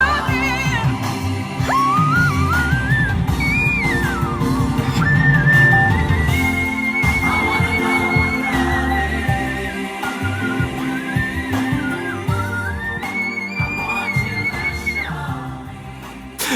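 A singer performs a song live and whistles a rapid scale. Clear, agile whistled runs rise and fall above a full accompaniment for the whole stretch.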